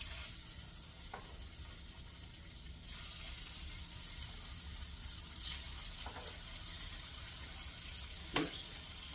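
Melted butter and bacon grease sizzle softly and continuously in a frying pan, a faint steady crackling hiss with a few brief clinks and bumps, no talking.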